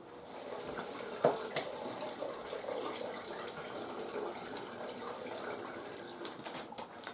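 Water drains from a disconnected boiler of an old home's heating system into a drain, a continuous close splashing trickle with occasional louder gurgles and clunks.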